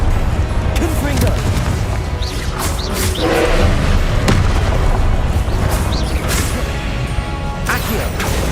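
Confringo blasting spells explode in the video game Hogwarts Legacy as repeated heavy booms and crashes. They come through a dense, constant wall of combat noise, with voices in the mix.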